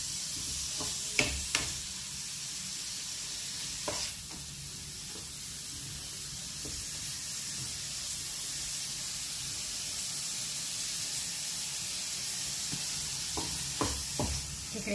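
Butter sizzling and frying in a pan while making carbonara, a steady hissing sizzle throughout with occasional soft clinks and stirs, close and without talk.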